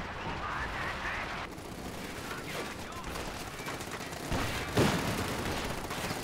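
An infantry support gun fires in a wartime strategy video game during a tournament match. Two heavy booms cut through ongoing battle noise, with commentators talking over the action.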